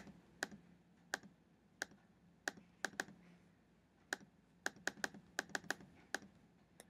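Close, crisp keystrokes on a laptop keyboard tap out in irregular bursts, a few isolated clicks then quicker clusters, over a quiet background.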